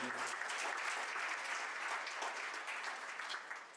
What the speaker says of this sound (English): That alone deserves a round of applause.